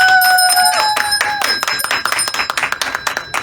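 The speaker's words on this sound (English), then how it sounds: "and then I want you to ring the bell." A bright bell rings with sustained tones, followed by a flurry of sharp clinks and claps that build toward the end.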